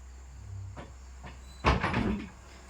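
A house door is pushed shut with one soft close-up thump and a brief rattle, following faint shuffling in a quiet room.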